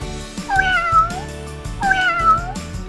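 Two drawn-out domestic cat meows, one after the other with a short gap, clear and close against a low steady background hum.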